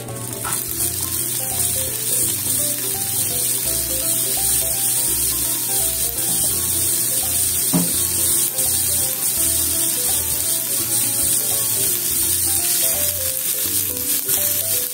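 Stir-frying in about a tablespoon of oil while making simmered hijiki seaweed, a loud, continuous close sizzle with faint scraping and clicks underneath and no talking.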